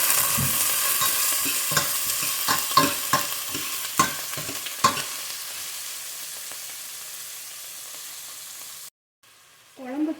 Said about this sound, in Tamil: வெங்காயம் நல்லா வதக்கிக்கலாம்.